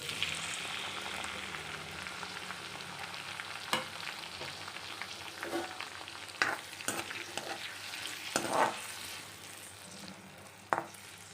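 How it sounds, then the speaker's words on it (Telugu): Tomatoes fry in a pan with a steady low sizzle, while a spoon stirs and scrapes them, sending scattered sharp clicks and knocks against the metal over several seconds. "ఇది కొంచెం ఫ్రై అయితే చాలు. అండ్ ఈ టొమాటోస్ కూడా వేసేస్తున్నాను."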